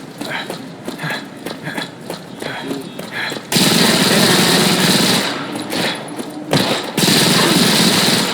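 Rapid gunfire in the mobile shooter Modern Combat 5: loud, dense bursts of automatic shots, some stuttering and some sustained, close and in the foreground, with a voice speaking briefly.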